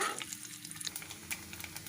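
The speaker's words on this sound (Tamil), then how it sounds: "நெய்யில் இந்த தேங்காயை வறுக்கலாம்." Grated coconut fries in ghee in a pan while making jackfruit payasam, a soft, quiet sizzle with light stirring scrapes and small crackles.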